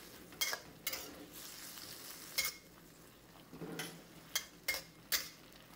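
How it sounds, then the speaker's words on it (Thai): Sauce for a Thai stir-fry of crispy fried tilapia with celery being stirred in a hot pan: soft, steady sizzling broken by several sharp scrapes and clacks of a utensil against the pan, close and fairly loud, with no voices. "แล้วก็ให้เราผัดคลุกเคล้าให้เข้ากันนะครับ"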